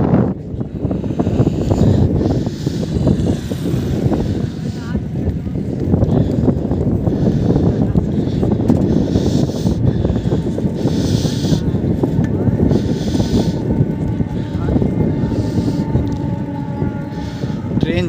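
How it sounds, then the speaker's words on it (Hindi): A train rolls past near the Ganga bridge approach road at Munger, a continuous low rumble lasting the whole stretch, heavily buffeted by wind noise on the microphone. "ट्रेन जाने की आवाज़ आ रही है"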